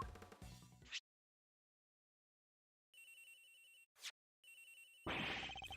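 Mobile phone ringing in an Ace Attorney Investigations scene, a short burst of other sound, then silence, then two bright electronic ring bursts separated by a brief blip, with more sound rising at the end.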